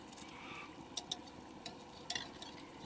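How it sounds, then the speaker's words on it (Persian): Samosas deep-fry in a roomy pan of plentiful oil, a steady bubbling sizzle with a few sharp metallic clinks as a utensil turns them. "همونطور که میبینین من مدام برش میگردونم که مطمئن باشم که دوورش خوب سرخ شده"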